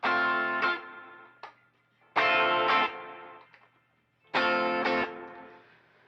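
Three strummed chords on a Glarry Telecaster-style electric guitar in the middle pickup position, each ringing briefly then fading, with a thin, nasal, slightly driven tone and short gaps between.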